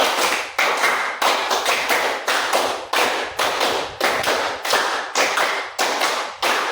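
A class claps a rhythm pattern for a concentration game: repeated bursts of sharp hand claps in groups, nine or ten tight clusters evenly spaced, moderately loud and close, with no talking.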